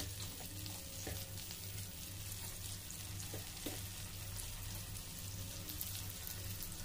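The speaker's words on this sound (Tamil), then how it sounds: "பட்டர் நல்லா மெல்ட் ஆகிடுச்சு. இது கூட நம்ம மேரினேட் பண்ணி வச்சுருந்த சிக்கன் பீசஸை சேர்த்து ஃப்ரை பண்ணி எடுத்துக்கலாம்." Marinated chicken pieces shallow-frying in melted butter give off a steady close sizzle and crackle, with a few light stirring clicks over a low kitchen hum and no talking.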